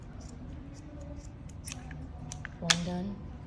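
Scissors snip through lace wrapped around a freshly painted phone case, a short sharp cut standing out near the end amid soft handling rustle.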